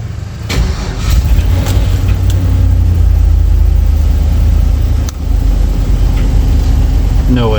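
A Chevrolet Suburban's engine, just refitted with injectors, catches with a sharp start and settles into a loud, steady idle, its low rumble holding throughout with a slight dip partway.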